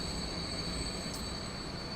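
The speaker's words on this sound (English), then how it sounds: "we'll get our combat train rolling back in here." A train rolls along in the Transport Fever game, giving a steady rail rumble with a high metallic wheel squeal sustained throughout and a brief brighter screech near the middle.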